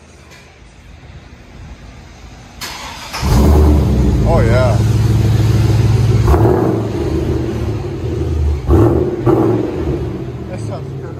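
A Chevy 6.0L V8 LS engine revs hard through a Flowmaster Flow FX exhaust, a loud, deep rumble that swells and holds with repeated blips, while a person briefly reacts over it.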